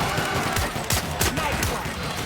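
Rapid bursts of gunfire crackle in The Outer Worlds, a loud, dense fusillade of repeated shots filling the short moment.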